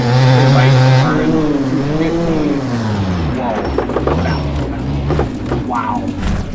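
A 2003 Suzuki RM 250 motocross bike in the MX Bikes video game on the Walnut track, its engine loud and close, revving up and down in rising and falling sweeps.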